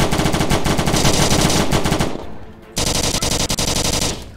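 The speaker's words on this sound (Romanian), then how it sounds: "Ok, să tragă tot încărcătorul." An enemy in a VR police shooter game sprays an entire magazine in rapid automatic fire, a loud, close, continuous rattle that stops for a short gap near the middle and then resumes as a second sustained burst.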